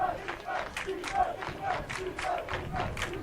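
A home crowd at a high school boys lacrosse semifinal chants a rhythmic, repeated two-beat cheer from the stands, steady and moderately distant, the pulses recurring about every half second.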